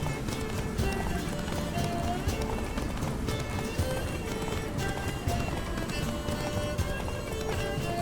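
Rapid hoofbeats of a galloping horse in the video game The Witcher 3 run continuously, with a brief whinny and some faint background noise mixed in.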